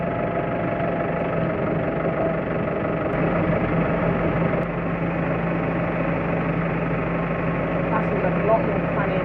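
A farm tractor's engine drones steadily from inside the back of the cab, a constant low mechanical rumble with vibration that holds at an even level throughout, no other sounds standing out.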